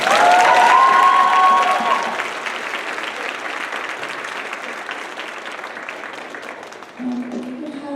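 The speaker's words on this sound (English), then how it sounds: "So just give her a special round of applause." Enthusiastic audience applause at a China night event fills the room, loud at first then settling into steady clapping, with a voice briefly rising near the end.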